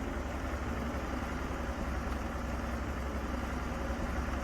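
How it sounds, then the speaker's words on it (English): A tractor engine idles in Farming Simulator 22, giving a steady, unbroken low rumble with an even drone from start to finish and no other sounds. "Oh, the tractor doesn't seem to want to park."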